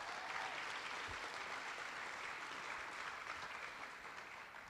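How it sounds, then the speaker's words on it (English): Sustained audience applause at a scholarship night, a dense crowd of many clapping hands heard from a distance, steady and fairly faint, tapering slightly toward the end with no talk over it. "the thunderous applause for every one of your fellow nominees and recipients is just"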